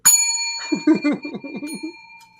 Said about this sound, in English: Oh, our bells harmonize.